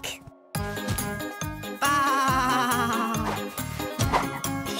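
Several sheep bleat loudly over a bouncy, rhythmic musical backing, the wavering bleats overlapping one another.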